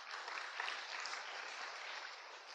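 A church congregation claps together in a steady, even wash of applause, sustained and fairly distant throughout with no speech over it.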